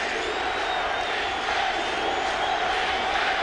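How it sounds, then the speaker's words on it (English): Football stadium crowd at a 49ers home game against the Saints, a dense, steady roar of voices chanting for defense, continuous and loud throughout with no clear individual voices. "Crowd chanting defense, defense."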